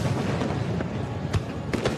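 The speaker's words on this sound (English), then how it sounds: "Fireworks can capture attention and inspire awe like little else can." Fireworks burst during a town's Independence Day celebration, heard as a dense, continuous crackle with a few sharper pops standing out near the end, loud and close throughout.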